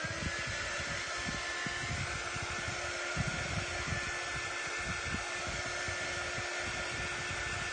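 Hair dryer running steadily over a waxed craft project, a constant close whirring blow with a faint tonal hum, continuous and unchanging from start to finish with no talk.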